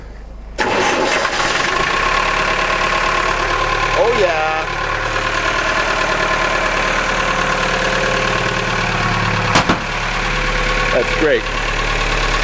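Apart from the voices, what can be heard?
boat engine starting and idling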